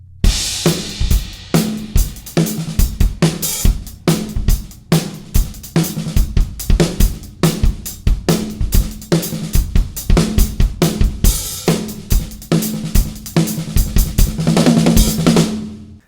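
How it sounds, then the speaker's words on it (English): Drum kit beat played with the left hand on the snare and the right hand on the hi-hat, sharp evenly spaced loud hits in a steady repeating groove, heard alone without talk. "we could leave our left hand on the snare drum the whole time and our right hand on the hi-hat the whole time"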